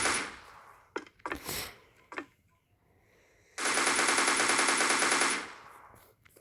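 Rapid automatic rifle fire in a zombie shooter game, a few short bursts followed by a long sustained loud volley of about two seconds, with no talking.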